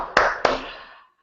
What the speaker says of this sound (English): So I'm clapping for you